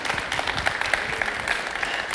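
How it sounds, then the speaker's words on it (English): A church congregation applauds during a service, a dense, steady patter of many hands clapping at moderate volume, brief and with no voices over it. "And give them a round of applause,"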